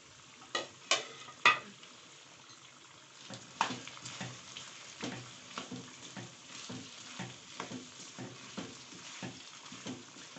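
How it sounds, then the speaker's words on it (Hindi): Strips of bell pepper fry alongside beef in a hot pan, a constant crackling sizzle broken by repeated clattering stirs and scrapes of a utensil, close up. "इसको हम फ्राई करने रख देंगे"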